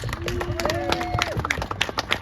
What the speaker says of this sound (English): Let's give him a round of applause too, huh?